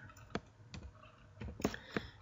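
Quiet computer keyboard typing: a handful of separate key clicks in an uneven rhythm, close and fairly soft, with no voices.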